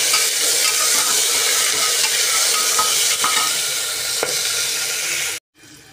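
Chopped tomato sautés in hot oil, a loud, steady sizzle with occasional stirring scrapes, running continuously before cutting off abruptly near the end.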